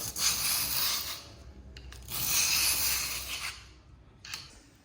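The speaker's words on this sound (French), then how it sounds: "je prends mon nettoie-colle et je vais venir gratter" A glue-cleaning scraper rasps over a tiled surface to lift epoxy grout residue, quiet close scraping strokes in two longer passes and a short final one.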